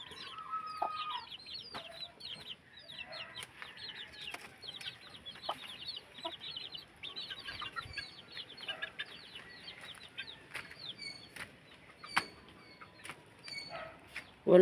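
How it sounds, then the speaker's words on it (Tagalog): A pair of chickens near a homemade coop keep up a busy stream of short clucks and chirps at moderate distance, with faint scattered knocks and no talk. "Mag-asawa nga manok."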